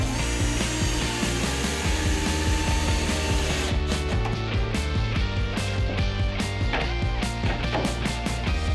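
Power tool driving screws into wood while building a wall shelf for long timber pieces, a dense mechanical whirring with repeated ratcheting bursts that grow busier and sharper midway, loud and close with no talking.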